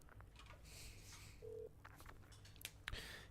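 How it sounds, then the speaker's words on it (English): A payphone dialing a number in the Shadows of Doubt video game, a series of short keypad tones and button clicks spread over a few seconds, fairly quiet against low background noise. "All right, let's dial this bad boy."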